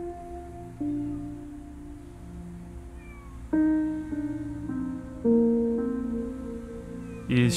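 Cats in an animal shelter meowing in the PC video game Copycat, several drawn-out mews arriving one after another over soft background music, close and clear with no talking.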